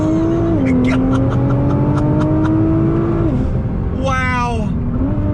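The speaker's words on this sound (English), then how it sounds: "Second gear, on throttle, here we go." A modified 2018 Nissan GTR R35 pulls hard in second gear at full throttle, its engine note rising steadily from inside the cabin, with a shift-like dip and a voice exclaiming partway through.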